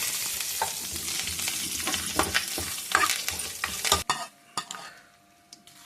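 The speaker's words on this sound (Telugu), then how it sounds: "టమాటా జ్యూస్లో పోపు వేస్తాను" Sizzling tempering in hot oil for tomato juice crackles and hisses with frequent spatters and stirring scrapes for about four seconds, then drops abruptly to quieter scattered pops with a faint background tone.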